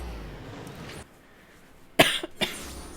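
During a Final Fantasy XIV Heavensward gameplay session, a single close, loud cough bursts out and is followed by a smaller second cough. Quiet game background sound plays beforehand.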